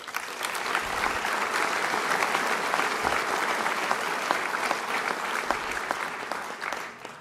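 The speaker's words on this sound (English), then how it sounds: "So let's give them some applause" A graduation ceremony crowd applauds loudly and continuously, with a few sharper individual claps and low thumps standing out from the dense, even wash of clapping.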